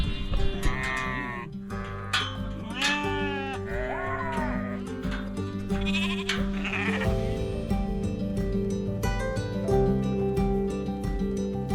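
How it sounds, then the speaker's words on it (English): A large flock of farm sheep bleating loudly and continuously, many overlapping calls near and far, with other livestock noise behind and no talk. "That is a lot of sheep."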